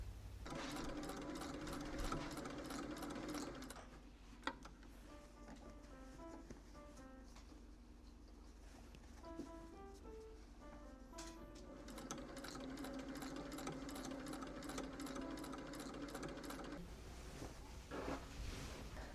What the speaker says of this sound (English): Now I'm going to sew all the way around, 1/2 inch from the edges, right next to the gathering stitch